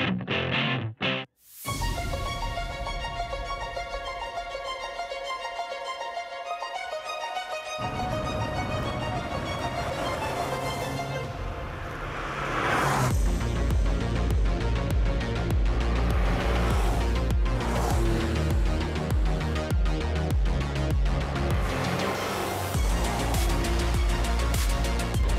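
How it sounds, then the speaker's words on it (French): A Ferrari 308 GTB V8 starts up and accelerates on a former 1950s Formula 1 circuit at Cadours-La Réole, loud and close with strong harmonic engine tones, revving through gears and continuous roar with tire noise. "d'entendre surtout cette mélodie de ce fameux V8 Ferrari"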